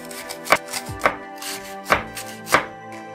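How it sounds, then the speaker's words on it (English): Knife chopping peeled lotus root (kamal kakdi) into slices on a board, five or six crisp, close chops at an uneven pace with short pauses between strikes. "After washing and peeling it, we need to chop it in the slices."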